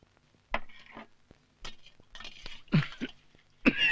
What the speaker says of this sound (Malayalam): ഈ ചുമ എപ്പോഴും ഉണ്ടോ?